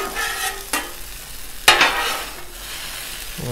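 Broccoli, shrimp and onion stir-fry tossed on a 36-inch Blackstone griddle: steady sizzle with a few sharp spatula scrapes and clanks against the flat steel top, close and alone.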